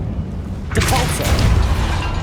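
A Depulso force spell strikes in Hogwarts Legacy, a sudden loud boom-like burst followed by a sustained rumbling blast that stays dense and close for a couple of seconds.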